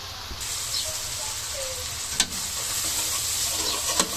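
Chicken roast frying in a pan as hot tomato sauce is added and stirred, a constant close sizzle with occasional spoon clinks against the pan, no speech.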